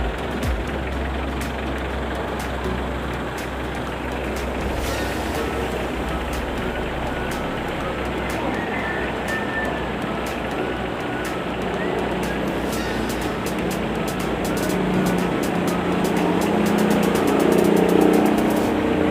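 A diesel engine idles steadily while warming up, a continuous close low rumble with even throbbing and a slight rise in loudness toward the end.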